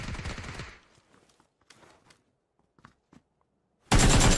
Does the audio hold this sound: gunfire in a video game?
yes